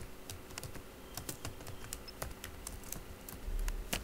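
Quick, light clatter of someone typing HTML code on a computer keyboard, steady irregular keystrokes close up and fairly quiet, with no talking.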